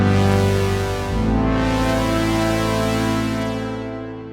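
A lush stereo pad from a Korg Prologue synthesizer's opening patch sustains as one thick chord, shifting partway through and slowly fading toward the end, with no voices.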